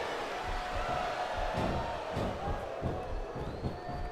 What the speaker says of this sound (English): Now the fans start to cheer for him.